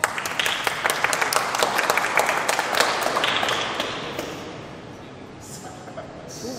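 A small group claps at a live tech demo of a smart shelf web interface during a hackathon presentation, a loose burst of applause for the first few seconds that tapers into quieter room tone.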